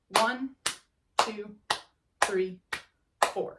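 Group hand clapping in an even eighth-note rhythm, crisp close claps falling between and alongside a voice counting the beat aloud, steady and regular throughout.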